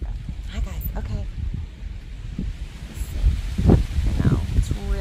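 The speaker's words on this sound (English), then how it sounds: "It's really windy though right now." Gusty wind blows outdoors, buffeting the microphone and rustling nearby, while a person talks throughout over the rough, uneven noise.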